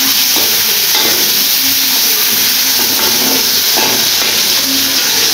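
Chicken pieces and chopped onions frying in plenty of hot oil, a loud continuous sizzle and hiss with occasional stirring scrapes, close up and without talk.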